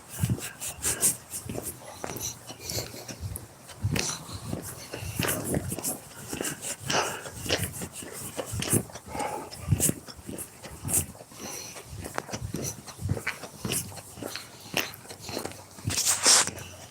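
A puppy gnaws and scuffles close by, with wet chewing clicks, soft whimpers and pattering movement in a busy, uneven stream, and brief snatches of a voice.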